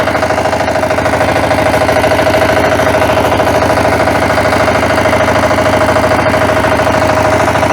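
A vehicle engine runs loud and close while reversing, keeping up a steady throbbing rumble with a rapid knocking pulse that does not change through the clip.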